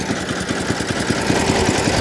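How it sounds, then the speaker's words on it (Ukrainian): A small Muravei mini dumper's engine runs at a steady idle, its fast rhythmic low putter continuous and close for the whole stretch, with no voices over it. "Є. Завівся круто. Оберти."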